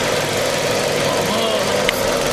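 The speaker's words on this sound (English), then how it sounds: "now the engine's misfiring" A car engine idles roughly while misfiring with the ignition to cylinder 4 disconnected, a loud, steady, uneven churning up close with a slight stumbling pulse throughout.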